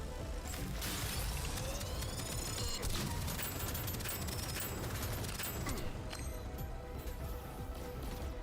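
Dense, continuous game combat noise with crashing, shattering bursts and rapid gunfire, loud and sustained throughout, in which a grenade explosion blends into the chaotic barrage.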